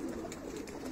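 Close, continuous cooing of pigeons, soft low throaty notes rolling on without a break.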